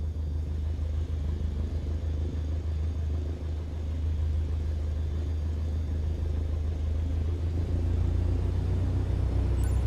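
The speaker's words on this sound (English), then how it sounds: "gently increase throttle to get the aircraft moving" Aircraft engine in Microsoft Flight Simulator 2020, throttled up gently from idle while taxiing: a steady, heavy low drone that swells slightly in loudness after the first few seconds, with no voices.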